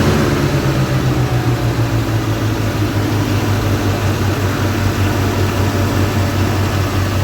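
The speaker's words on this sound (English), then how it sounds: "The engine itself sounds crazy good." A Chevy square body truck engine idles in a steady, loud low drone with a persistent throbbing hum and no talk over it.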